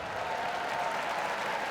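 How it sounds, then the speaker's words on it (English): A crowd at the Westminster Dog Show claps and cheers for a Barbet in the ring, a steady wash of applause filling the arena throughout, with no words audible. "And the crowd's already excited for the Barbet tonight."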